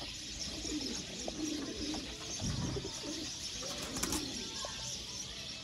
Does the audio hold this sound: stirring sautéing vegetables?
no